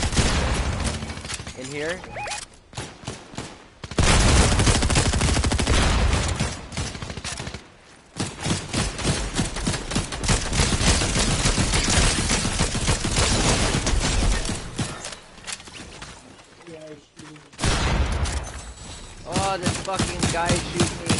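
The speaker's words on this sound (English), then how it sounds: "Someone's shooting. Where the fuck is the shooting?" Fortnite gunfire crackles in bursts and volleys through most of the stretch, loud and close, with brief lulls between exchanges while players talk over the shooting.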